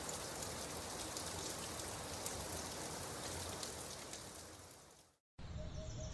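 Steady rain falls in a dense, even patter, fairly faint, cutting off abruptly near the end before resuming briefly.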